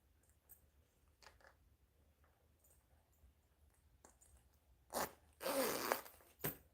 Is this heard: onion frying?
no